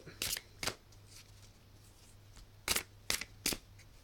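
Tarot cards being shuffled in several quick riffling bursts, close and crisp, with brief quiet pauses between them.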